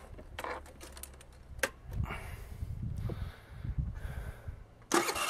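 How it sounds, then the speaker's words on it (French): A scooter's electric starter cranks and its engine tries to catch after a new starter relay is fitted, heard as quiet clicks and broadband mechanical noise with a louder burst near the end, no voices. "nous testons le nouveau relais de démarrage en essayant de démarrer le scooter."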